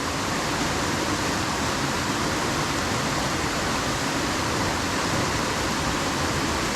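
A mountain river in the Carpathians rushes steadily beside a footbridge near a trailhead, a dense, continuous broadband roar that stays even and unbroken throughout with no voices.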